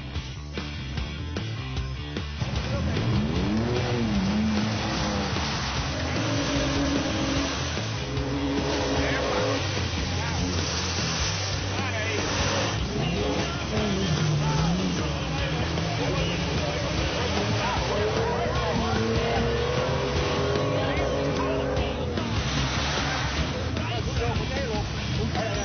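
Modified off-road vehicles from an FJ Cruiser club in the Dominican Republic churn through mud, their engines roaring and revving steadily and loudly throughout, with shifting engine pitch and no talk.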